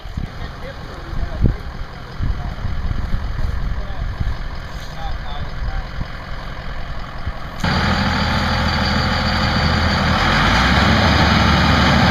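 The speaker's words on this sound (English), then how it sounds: "he brought his Ford down here to pull us out" A Ford pickup truck engine pulls a stuck vehicle free on a muddy Arkansas hunting trail, a steady loud rumbling drone that grows heavier and louder partway through as the engine works harder.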